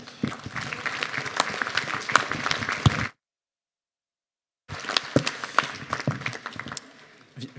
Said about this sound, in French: Jean-Pierre Dan, que je vous demande d'applaudir.